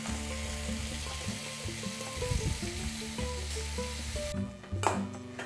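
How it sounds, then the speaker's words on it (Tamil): Tomatoes cooking slowly in a pan over a low flame, giving a continuous soft sizzle with gentle bubbling and faint stirring, heard alone without voices. "தக்காளி நல்லா வேகட்டும், ஸ்லிம்லேயே வச்சு நல்லா வேக விடுங்க."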